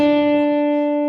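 Lead guitar from a song, here a single clean note held steady and ringing close and clear on its own.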